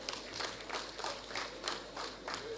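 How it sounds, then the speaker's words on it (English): Audience applause for a special guest of honor at a graduation ceremony, a steady broadband patter of many hands clapping continuously at moderate distance, with no talk over it. "Please let us give a resounding applause to our special guest of honor."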